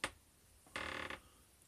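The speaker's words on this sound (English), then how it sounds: "Sorry about that squeaking noise. That's my table." Camper table squeaking when leaned on, giving a short creak at the start and then a longer, rasping squeak about half a second later. Both are close but quiet, with no speech.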